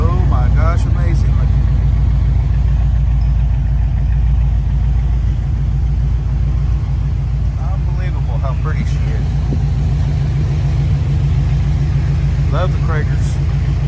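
A restored triple-black 1965 Chevrolet El Camino with a 350 V8 and dual exhaust idles with a loud, steady, low rumble throughout, while people talk over it nearby.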